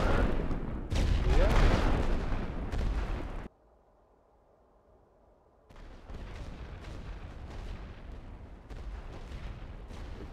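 Artillery barrage in a Great War western front game: loud, dense booms and blasts in the opening seconds, then a near-silent gap, followed by a continuous rumbling wash of distant shellfire and explosions.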